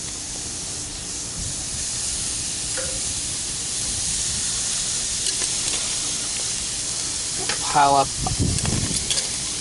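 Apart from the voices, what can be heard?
edamame sizzling on a salt block on the grill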